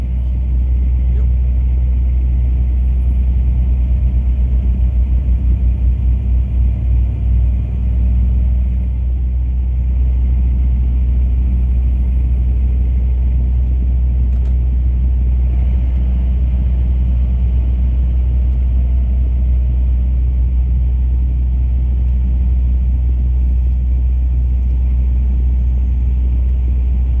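Constant low rumble of a DAF truck engine while driving on a Dutch motorway, heard steadily from inside the cab with road noise and no talk.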